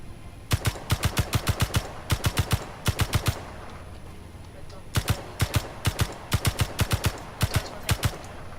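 Rapid video game gunfire in several sharp bursts of four to seven shots each, loud and close, separated by short pauses.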